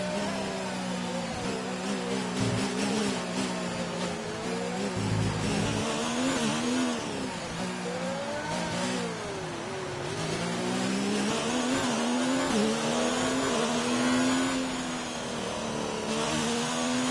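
A race car engine revs and drones continuously in a PS4 racing game, its pitch rising and falling through gear changes, with tyre noise and no speech.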